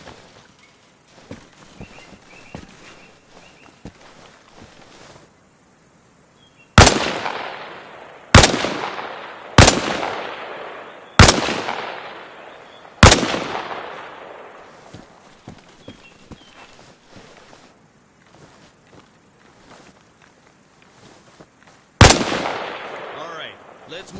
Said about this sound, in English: Position yourself behind the wall and lean out while firing.